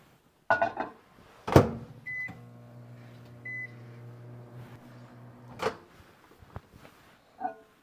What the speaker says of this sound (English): we're going to melt that in the microwave